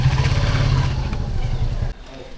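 A parked motorcycle's engine runs with a loud, steady low rumble near Kirti Mandir in Porbandar, then cuts off abruptly near the end, leaving quieter background noise.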